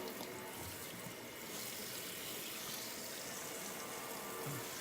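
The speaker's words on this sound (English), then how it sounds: "when I spray the ears, no water can go inside his ear canal" Water sprays steadily from a hose or shower head while a dog is bathed during home grooming, a continuous close hiss with no talk.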